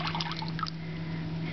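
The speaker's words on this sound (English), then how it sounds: "pour it out" Liquid pours out of a pot in a short, gentle trickling splash near the mic, fading into a quiet steady hum.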